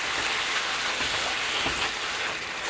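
Chili meat sizzles and crackles in a pan, a dense, steady hiss close up with no talking over it.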